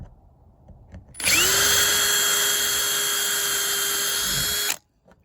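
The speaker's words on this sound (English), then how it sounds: "So I have to drill this out." A power drill whines up to speed and runs steadily at a high pitch for a few seconds, drilling out a plastic nozzle, then abruptly stops; close and loud.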